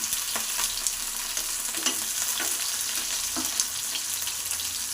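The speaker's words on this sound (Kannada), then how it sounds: "ಬೆಳ್ಳುಳ್ಳಿನೇ ಅದ್ರ ಜೊತೆ ಫ್ರೈ ಮಾಡ್ಕೊತಾ ಇದ್ದೀನಿ." Garlic frying with tomatoes in hot oil in a pan, a loud, steady close sizzle and crackle with a few soft stirring scrapes, and no voices.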